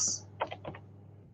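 A few soft, quick keyboard taps as a short greeting is typed, heard close and quiet in a small cluster after a brief click.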